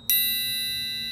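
A single metal triangle strike rings out near and clear, its bright sustained tone decaying slowly through the clip with no talk.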